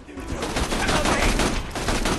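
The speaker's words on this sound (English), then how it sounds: "Look at me when I'm shooting at you." Dense bursts of gunfire from a Borderlands 2 shootout, rapid and loud, running steadily throughout.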